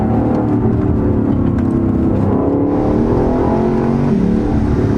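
A 2018 Lexus LC 500 sports coupe drives on a curvy road, its engine note a loud, continuous, aggressive drone that holds steady throughout from inside the car.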